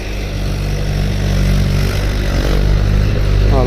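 A tractor engine runs steadily in a field during rotavator sowing work, a continuous loud low rumble throughout with no clear talk over it.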